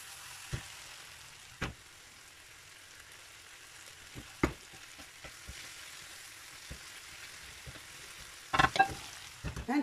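Eggplant fries in hot oil with a soft, steady sizzle broken by scattered sharp pops and crackles, heard up close without any talk.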